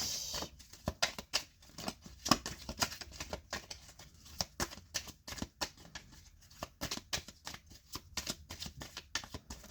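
Tarot cards being shuffled by hand, a quick series of crisp riffling flutters and soft slaps in uneven bursts, close and fairly quiet, with no talking.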